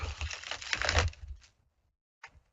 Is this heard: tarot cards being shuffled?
yes